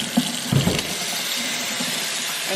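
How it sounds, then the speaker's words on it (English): Water runs steadily from a kitchen sink faucet sprayer at modest pressure in an empty apartment, a continuous close hiss and splash with a few small knocks at the start. "Let's try the sprayer."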